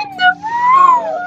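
A cat in the video game Niche gives one loud, clear, rising-and-falling meow, heard up close.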